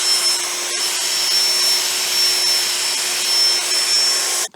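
A machine polisher with a soft pad and mild polishing paste works the paint of an E30 BMW 325 Sport, giving a steady, close whirring hiss that holds evenly for several seconds before cutting off abruptly.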